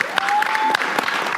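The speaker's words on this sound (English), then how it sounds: "Please give yourselves a round of applause." An audience of local and citywide elected officials applauds at a civic event in Philadelphia, with dense, steady clapping and a few cheers rising over it, loud and close.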